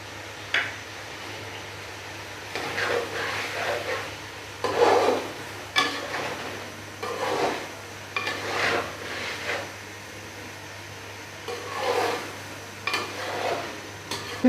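Garlic ginger paste stirred into a pan of tomato chicken karahi over high heat on a home stove, with soft scraping and rubbing strokes of a spoon against the pan in irregular bursts and a faint sizzle underneath.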